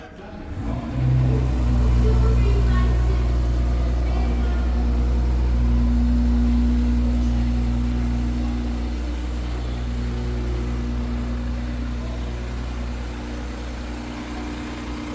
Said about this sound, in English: Let's do a little cold start.